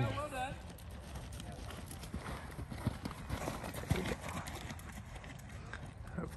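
Hooves of a green horse at a show jumping clinic, a steady clip-clop of a trotting or cantering horse close by, with an instructor's voice talking over the footfalls.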